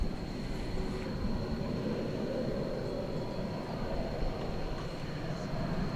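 An airliner trundles along a taxiway at night at DFW Airport, a steady low rumble heard from a distance with a faint whine running through it, and no voices.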